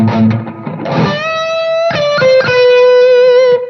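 An electric guitar runs through a Bluguitar amp set to its smooth side, with sustained, singing notes and bends that ring loud and close, played alone for a few seconds.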